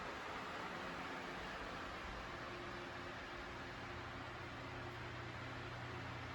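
A Keystone Air Accelerator 12-inch desk/pedestal fan running at speed 7, giving off a steady, even broadband whoosh of moving air with a faint low hum underneath, constant and unbroken throughout.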